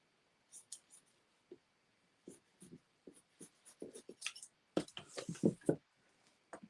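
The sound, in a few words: cutting excess embroidery material with big scissors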